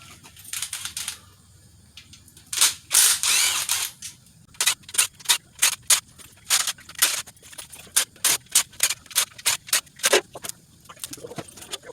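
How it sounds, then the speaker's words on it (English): A hand ratchet clicks in quick bursts, close and fairly faint, while removing the oil pan bolts from a 3.8L engine being torn down. The bursts repeat with short pauses between them. "now I'm going to get all these oil pan bolts out"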